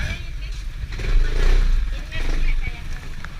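A motorcycle engine labours and strains, its low rumble swelling and easing in surges while people talk over it on the way to a cockfighting venue.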